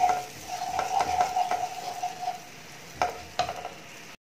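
A spoon stirs Schezwan sauce thinned with hot water in a pan. Close, soft scraping and sloshing is broken by a few sharp metallic clicks and taps against the pan, with a faint sizzle underneath.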